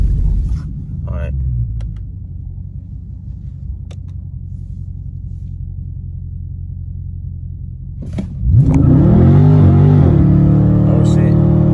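A 2020 Dodge Charger Scat Pack idles with a low rumble, then launches hard on stock all-season Goodyear 245 tires, its engine roaring loud and close as the tires spin.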